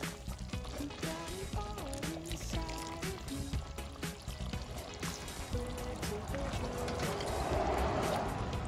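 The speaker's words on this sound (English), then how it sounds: "Add some water." Water pours into a pot of iguana curry, a trickling, splashing stream running for several seconds under background music.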